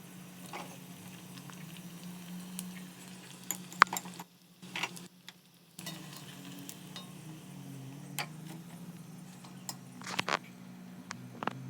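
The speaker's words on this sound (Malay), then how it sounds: "kita goreng dulu tempe ni sampailah dia masak, sampailah dia kecoklatan macam ni" Steady sizzle of tempeh frying in oil, with occasional clinks and stirring sounds, a brief dip midway, no talking.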